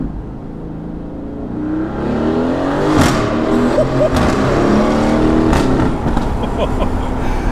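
A Mercedes-AMG A35 with about 300 horsepower revving hard, its engine note climbing and dropping through downshifts with crackling blips. It is loud and close, with a faint voice in the background.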